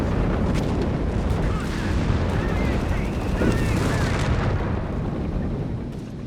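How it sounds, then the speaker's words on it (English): Heavy rocket barrage and gunfire in Company of Heroes 3, a dense unbroken roar of overlapping blasts and explosions that stays loud throughout and eases slightly at the end. "Support weapons out in the open, getting hammered by heavy rocket fire."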